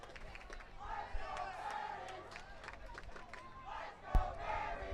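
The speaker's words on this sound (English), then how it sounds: "Crowd here being electric right now for their home." Home crowd at a night high school boys' varsity soccer game roars and cheers in steady waves, with a loud burst near the end and background chatter.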